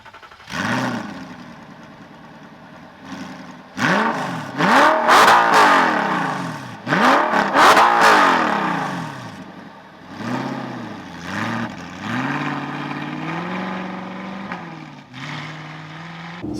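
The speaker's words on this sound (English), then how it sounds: "you will be able to hear that great song from the V8 as we take it out on the roads" A manual Audi R8 with a V8 engine and a noisy aftermarket exhaust revs repeatedly on the road, with loud rising and falling sweeps through the gears and throaty bursts between quieter cruising stretches.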